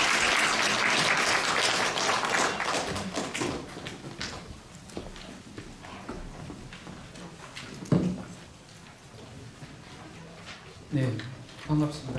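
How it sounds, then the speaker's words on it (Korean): A seminar audience at a Seongdong welfare centre's 30th anniversary gives loud applause that fades over a few seconds into scattered claps, footsteps and shuffling. Later a few louder knocks and bumps follow. "큰 박수 부탁드립니다."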